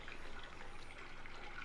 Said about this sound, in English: I fill a 5 gallon bucket of water